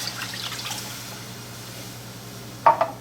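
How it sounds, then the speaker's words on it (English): Beef broth and port wine poured into a hot pan of flour-thickened steak sauce: a soft, steady liquid trickle over a low kitchen hum, ending in a short, sharper splash and sizzle burst near the close, with no talking. "now we'll add in our beef broth and our wine"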